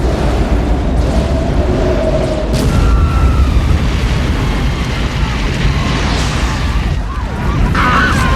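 A massive action-movie explosion roars as a loud, sustained rumble, with deep booming bass and crackling debris filling the whole stretch.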